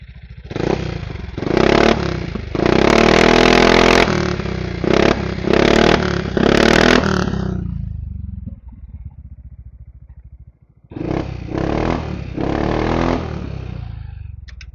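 A 2022 Yamaha XMAX 250 scooter fitted with an aftermarket exhaust runs close by, loud and continuous, with repeated throttle blips and revs, a drop to a quieter idle around the middle, then renewed revving toward the end.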